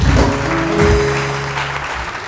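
Studio audience applause for a guest named Falak on a morning television show, a steady wash of clapping close and fairly loud, with low tonal music underneath.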